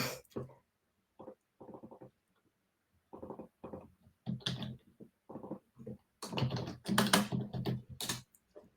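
Short bursts of typing come from a computer keyboard. The key clicks are close and arrive in quick clusters with pauses between them, and the typing grows louder and denser toward the end. No one speaks.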